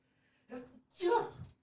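A single sneeze, preceded by a brief sharp intake of breath and ending in a louder burst, close and clear against quiet surroundings.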